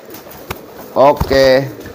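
A pigeon coos in a courtship drive, giving a couple of close, loud, throaty rolling coos after a brief tap, with a voice talking nearby.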